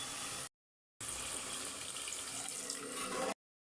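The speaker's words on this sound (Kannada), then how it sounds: "ನೋಡಿ ನೀರು ಸ್ವಲ್ಪ ಹಾಕ್ಕೊಳ್ತಾ ಇದ್ದೀನಿ." Water streams steadily into sambar masala for a Karnataka avarebele (field bean) sambar, a close, continuous pour lasting about two seconds after a brief cut, with no talking.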